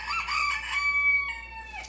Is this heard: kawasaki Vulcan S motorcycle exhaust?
no